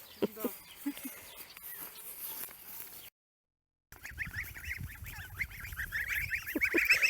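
Geese honk repeatedly, a noisy flock close by on a farm, with voices murmuring at the start and a brief dropout in the middle.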